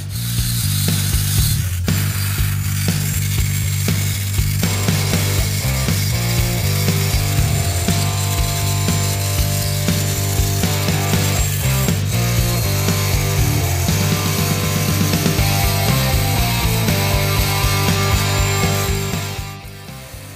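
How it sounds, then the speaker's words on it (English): A pointed die grinder bit cuts along a crack in an engine block, a loud, close, steady high-pitched whine with buzzing overtones that holds for about twenty seconds before tapering off. "I've got more of a die grinder bit that comes to a point, and what I'm doing this is just going right where the crack is"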